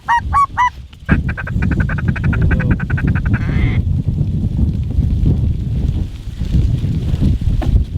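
Flock of snow geese calling in flight during a goose hunt: a few loud nasal honks up close at the start, then a dense, continuous chorus of many birds yelping and honking, some near, most farther off, with wind noise throughout.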